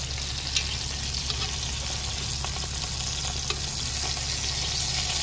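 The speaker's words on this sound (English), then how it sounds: "I'm browning this on a medium heat. I don't want it to be too hot. I don't want the meat to start sticking to the pot." Alligator meat browning in a pot over medium heat for Cajun sauce piquante, a constant close sizzle and crackle with occasional light utensil stirring, with no talk.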